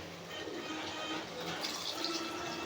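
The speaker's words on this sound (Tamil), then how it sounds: "இப்போ நமக்கு குழம்புக்கு தேவையான அளவுக்கு தண்ணி ஊற்றிக்கலாம்." Water pours steadily into a pot, a continuous splashing fill with a faint rising gurgle toward the end.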